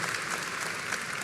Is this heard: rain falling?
no